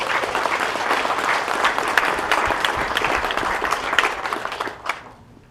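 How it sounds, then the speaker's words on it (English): Audience applause for the president of Navajo Technical University at an academic building grand opening: a roomful of dense, sustained clapping that holds strong, then fades out quickly near the end. "let's go ahead and give another big round of applause here to the president of Navajo Technical University, Dr. Elmer Guy."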